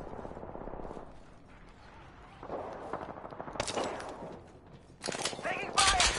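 Bursts of automatic gunfire in the video game Apex Legends, rapid rattling volleys at a moderate distance that come in several clusters, with quieter stretches and game effects between them.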